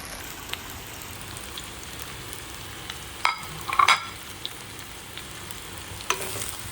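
Okra (bhindi) fries in a pan with a steady, close sizzle and spatter, punctuated by a few faint clinks of a utensil stirring against the pan.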